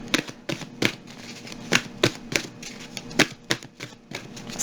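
A tarot deck is shuffled and cards are drawn, giving a close, crisp run of snapping riffles and flicks in an uneven rhythm, loud and clear with no talking over them.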